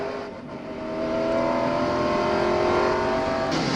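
Kurt Busch's 2006 NASCAR race car engine roars under hard throttle, heard on board, loud and rising in pitch as it accelerates, with no talk over it.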